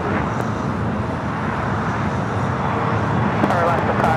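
A jet taking off from runway 25 right at LAX, its engines a steady broad roar with distant traffic, while radio voices talk over it.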